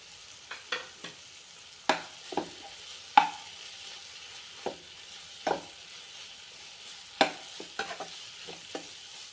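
Tomato rice with mint and coriander leaves is stirred in a pan, with a soft, steady sizzle broken by irregular sharp scraping knocks of the spoon, close and fairly quiet, with no one talking.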